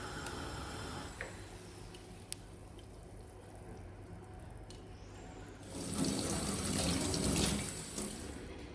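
A boiled pig's tongue is washed under a running kitchen tap, a steady stream of water splashing into a sink that grows louder and fuller partway through, with a few small clinks and no talk.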